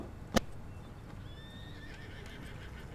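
A horse neighs once, a sharp whinny with a rising and falling pitch about a second long, heard at moderate distance over a quiet steady background after a brief click.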